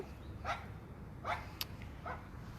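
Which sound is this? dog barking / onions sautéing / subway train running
dog barking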